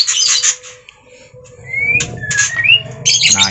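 A parent white-rumped shama (murai batu) squawks in harsh bursts near and fairly loud, with a few rising whistled notes between the squawks and faint rustling below.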